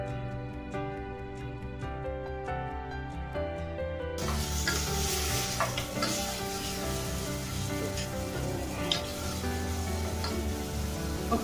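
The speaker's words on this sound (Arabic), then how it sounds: "حطينا زيت في قلب الحلة، سخن، هننزل بالبصلة بتاعتنا" Onion dropped into hot oil in a cooking pot for fish-and-rice cooking, setting off a sudden loud, continuous sizzle with crackling pops that follows a quieter opening stretch of background music.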